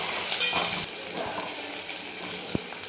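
Chopped onion sautéing in hot oil, a steady close sizzle with faint stirring and a single light knock near the end.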